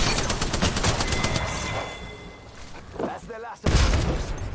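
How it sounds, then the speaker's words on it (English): Gunfire in the video game Apex Legends: rapid automatic bursts of shots up close, then a quieter stretch before a heavy boom and renewed loud firing. "Suppressing fire!"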